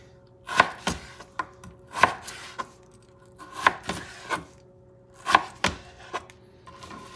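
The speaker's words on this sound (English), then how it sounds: "start cutting what I need to cut for the fries" Kitchen knife chopping through raw potatoes on a wooden cutting board for fries, in bursts of several crisp, close knocks with short pauses between.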